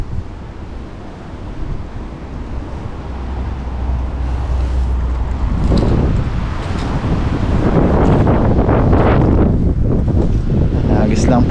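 Strong wind gusting over the sea while fishing from the shore, a steady roaring rush that builds louder toward the end, with low rumbling buffeting on the microphone and faint surf beneath.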